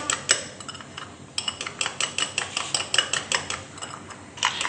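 A spoon whisks mango custard mixture in a bowl, producing quick, rhythmic metallic clinks and scrapes close by with a brief pause partway through.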